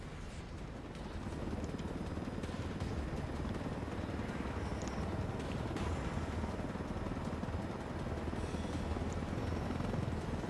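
Helicopter flying in the video game Ghost Recon Wildlands, a dense, loud, steady rotor and engine roar filling the whole clip without letup.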